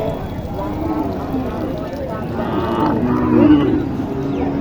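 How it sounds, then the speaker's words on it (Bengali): A native cow lows amid steady crowd chatter and people talking at a busy rural cattle market in Naogaon, with the call rising briefly above the hubbub near the end. "এখানে একটা দেশির মধ্যে একটি চমৎকার একটি গাভী"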